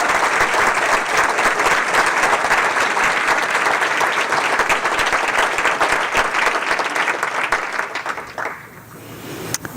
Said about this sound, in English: Please join me in applause for these East High School students.